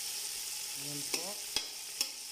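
Tomatoes being sautéed in a pan for bagoong fried rice, a steady bright sizzle with a few sharp clacks of a utensil against the pan, close and alone with no talk.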